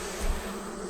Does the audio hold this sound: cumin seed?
no